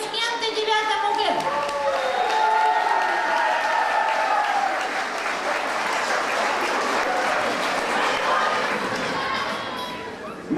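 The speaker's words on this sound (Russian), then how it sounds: "Итак, аплодисменты 9-му Г." A school hall audience applauds graduating class 9G at a 2012 graduation at Gymnasium 47 in Kurgan, sustained loud clapping with crowd murmur, children's voices and some cheering mixed in throughout.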